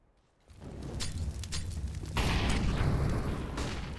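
A grenade explosion in the shooter game CS:GO bursts in after a moment of quiet, a loud booming blast with a rumbling tail and scattered crackles, followed by a second, heavier surge.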